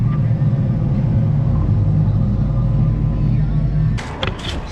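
A tractor backs up in an alfalfa field, trying to pull a stuck disc gang free, its engine droning loud and steady before easing off, followed by a few brief clanks.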